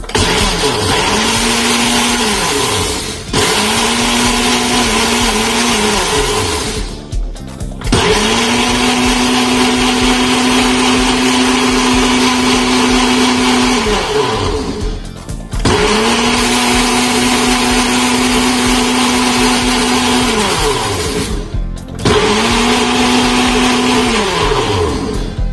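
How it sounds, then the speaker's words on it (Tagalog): Blender whirring through a homemade hair and face mixture in several long loud bursts, each motor run settling to a steady drone before cutting off briefly and starting again. "So, ngayon po mga palangga, i-blend na po natin siya."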